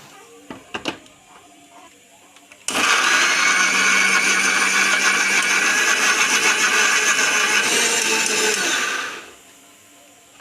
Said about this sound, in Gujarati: હવે મિક્સરમાં આપણે ગ્રેવી બનાવી લઈએ